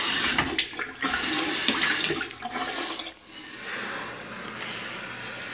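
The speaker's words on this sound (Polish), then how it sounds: "Woda wszystkie działa." Water running from a bathroom tap in an apartment, a steady broadband rush with a few bumps and splashes as the flow shifts, fairly close and continuous throughout.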